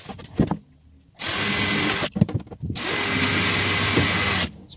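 A power drill bores holes through a canoe's sheet hull, two sustained whirring bursts of about a second and a half each, loud and close, separated by brief clatter and handling noise.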